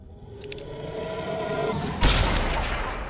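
Gunfire in the video game Blood West: a sharp broadband blast lands about two seconds in and trails off into a noisy tail, with faint earlier cracks and a low rumble underneath and no talking.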